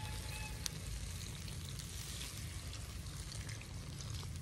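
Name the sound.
hot water poured into fish curry with radish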